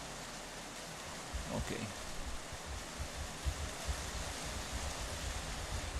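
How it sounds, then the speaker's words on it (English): Steady rain falling across a sci-fi desert landscape in Unreal Engine 5, a broad even hiss throughout with a brief voice speaking over it partway through. "Wow, we got some rain."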